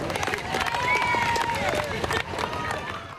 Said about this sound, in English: Redfern, where the Koori community was out cheering